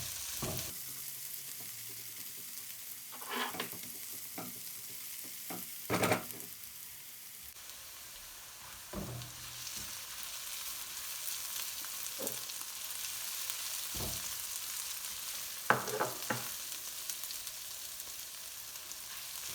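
Onions sizzle steadily in a pan while cooking down toward a soft, browned colour, a constant crackling hiss broken by occasional sharper scrapes and clatters of stirring, with no talk.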